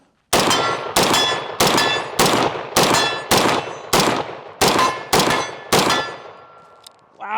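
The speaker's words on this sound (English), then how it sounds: "this is our first mag through, and we're gonna get our first impressions on the Ruger SFAR here" Ten loud, sharp rifle shots from a Ruger SFAR rifle with a muzzle brake, fired one at a time at a steady pace through a first magazine, each with a ringing decay, followed by a faint metallic sound at the end.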